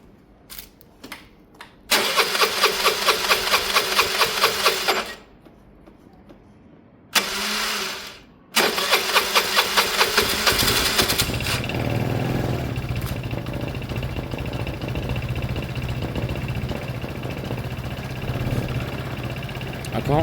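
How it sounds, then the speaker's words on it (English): A Piaggio Fly 125cc scooter with a low battery cranks in short bursts, catches after a few attempts, then settles into a steady close idle as it warms up. "Let me fire it up, let me warm it up."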